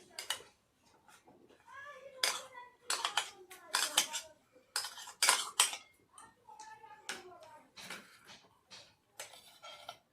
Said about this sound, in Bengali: সুজিটা আমি অল্প অল্প দিয়ে ভালোভাবে ডিমের সঙ্গে